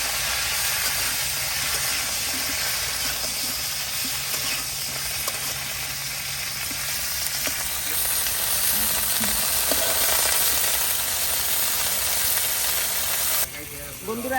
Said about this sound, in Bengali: বন্ধুরা, এই যে আমার ফুলকপিগুলো আমি ভাজা নিচ্ছি